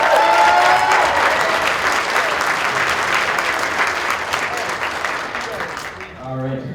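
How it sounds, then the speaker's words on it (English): An improv comedy audience at a convention gives a loud, full round of applause that gradually tapers off, with a voice starting to speak as it dies down. "Give a round of applause for at least 5."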